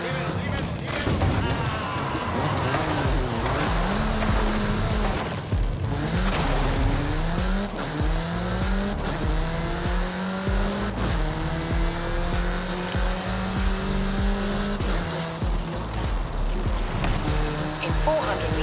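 A car in the Forza Horizon racing game driven hard at speed, engine revving through rising and falling gear sweeps with tire squeals, loud and continuous with talking over it.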